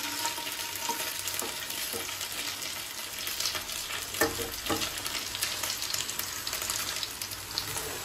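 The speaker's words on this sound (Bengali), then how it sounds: "আলুগুলো একটুখানি হালকা ভেজে নেব" Potatoes lightly frying with cauliflower in a pan for phulkopir dom, a steady close sizzle with occasional scraping stirs and clinks, no talking.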